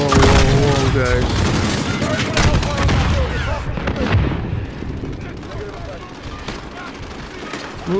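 Heavy air-support fire mission in Call of Duty Modern Warfare's Embassy level: dense, continuous rolling explosions and gunfire fill the scene, loud and close, easing slightly toward the end while voices cut in over the barrage.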